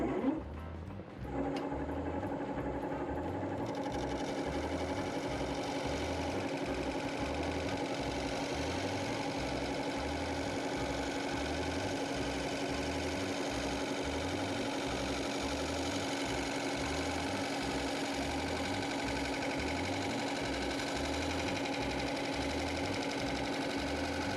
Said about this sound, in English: grab my bowl gouge, and true this up again